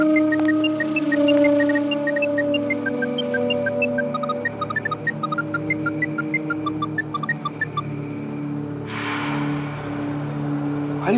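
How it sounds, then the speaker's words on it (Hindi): A mobile phone rings from behind a closed door in a Hindi TV horror serial, playing a steady repeating electronic ringtone melody with beeping notes over a low hum. The ringtone cuts off near the end and a burst of noise follows. "मोबाइल की आवाज आ रही है।"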